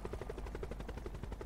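In the Call of Duty Blackout video game, a helicopter's rotor thumps in a fast, steady rhythmic chop, faint and unbroken, with no voices.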